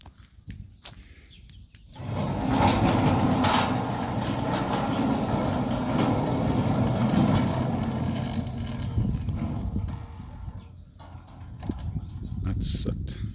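Centurion D6 Smart sliding gate motor running, a steady low mechanical hum and rumble that starts after a short pause and continues evenly, fairly close, with brief clicks at the start.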